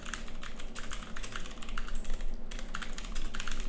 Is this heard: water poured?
no